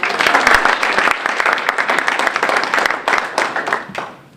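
Audience at a panel discussion event applauds the incoming student association president with steady, crisp clapping that rises quickly, holds for a few seconds and then tapers away.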